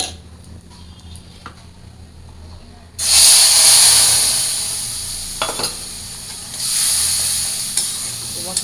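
Cumin seeds and bay leaves hit hot oil in a curry pan with a sudden loud sizzle that keeps hissing steadily, then swells again as the spices are stirred, with a few soft scrapes and no talk.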